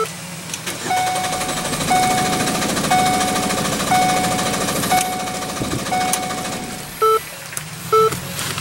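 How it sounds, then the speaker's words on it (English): Car engine cranking with a steady rapid chugging, accompanied by regular electronic beeps about once per second and a couple of louder tones near the end. "and see what we get at cranking"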